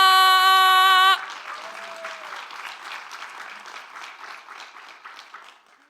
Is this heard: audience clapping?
yes